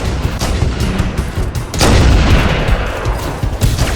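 Gunfire in Halo: Combat Evolved Anniversary, a loud, dense stream of shots and booming blasts layered over one another, with a heavier burst near the middle and no speech.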